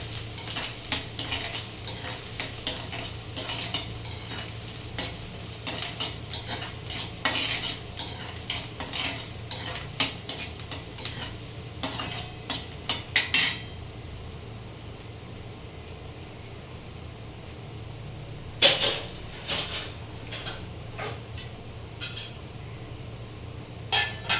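Matki curry browning in a pan, stirred with a utensil: repeated scraping and clinking strokes over a steady low sizzle, busy for the first half, then mostly quiet frying with a few more stirs, close and fairly loud.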